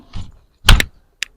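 A soft rustle, then a sharp close pop with a quick double snap as a ground cherry fruit is burst, followed by one small click.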